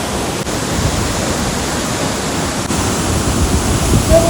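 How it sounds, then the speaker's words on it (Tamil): Water pouring down at Palaruvi waterfall in Kerala, a loud, dense, steady roar of falling water filling the whole clip without a break. "இங்கே அங்கேருந்து எவ்வளோ தண்ணி வந்து கொட்டுது."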